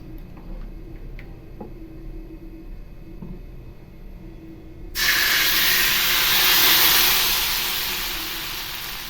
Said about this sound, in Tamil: தோசை கல்லு ஹீட் ஆகிடுச்சு நான் இப்போ தோசை ஊற்ற ஆரம்பிச்சிடலாம்